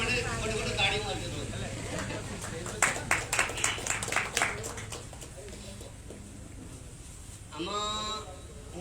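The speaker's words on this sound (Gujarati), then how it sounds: "તો મને ખુશ કરવા માટે ફટાફટ તાળી મારજો" Audience at a book launch and award ceremony claps briefly in a short burst of scattered applause between stretches of a speaker talking over a hall's amplified sound.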